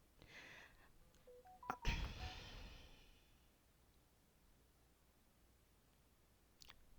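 A phone chirps with a quick run of bright electronic notification tones and clicks, fairly close, followed by a faint single blip near the end, with no talk.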